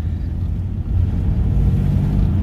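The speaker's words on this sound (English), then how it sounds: "I still can hear the exhaust leak coming out of the flex pipes" A V6 Nissan Altima with its catalytic converters deleted and a leaking flex pipe idles with a deep, steady VQ grumble, a rough low rumble close by that holds constant with no talking.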